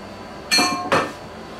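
Two bright, ringing clinks of dishes and cutlery about half a second apart while food is served up, close and crisp with a short metallic decay.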